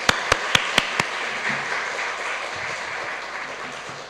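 Congregation applauding a pastor at a church service: a few sharp separate claps at the start give way to a steady, moderately loud wash of applause that continues to the end.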